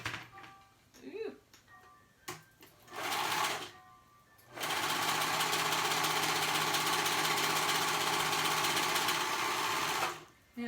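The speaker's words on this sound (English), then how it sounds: "And we're going to go ahead and sew." A sewing machine stitching a high-low skirt runs in a loud, continuous whir for about six seconds, after a few short bursts and brief voice sounds at the start.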